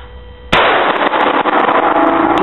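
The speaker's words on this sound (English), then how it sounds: "you're only going to have 3 rounds go off" An M4A1 rifle set to semi-automatic fires at a shooting range. One sharp, loud report cracks out after a quiet moment, followed by dense ringing noise.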